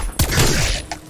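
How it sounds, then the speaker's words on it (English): A Zeus cannon fired in a video game: one loud, short blast with a booming crack and brief rumbling tail, alone and close. "The fucking Zeus cannon."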